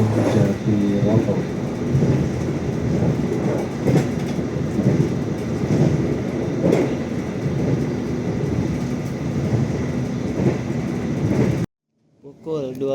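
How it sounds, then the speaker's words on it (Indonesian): The Ijen Express train rolls into Jatiroto station with a loud, continuous rumble and rhythmic clacking of wheels over rail joints, which cuts off abruptly near the end before a brief softer sound returns. "Pukul 12:09 kereta api Ijen Express tiba di stasiun Jatiroto."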